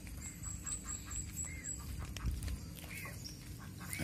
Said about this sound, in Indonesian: itu suaranya seperti kuek kuek kuek, sepertinya bebek ini